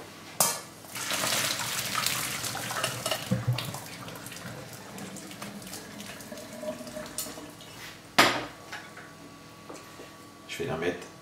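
Cooked pasta drained into a sink in a home kitchen, with water pouring and splashing steadily. A pot clanks now and then while a person speaks over the sound.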